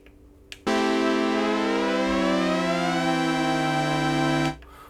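A sustained synthesizer chord played on an Arturia KeyLab controller with Bitwig, its lowest note sliding steadily downward while the upper notes hold, loud and alone for about four seconds.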